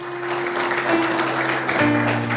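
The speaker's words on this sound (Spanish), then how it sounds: "¿Por qué no le damos un aplauso al Señor, hermano?" Congregation at a church service applauding, a steady wash of many hands clapping at moderate level throughout, with a sustained organ or keyboard tone beneath.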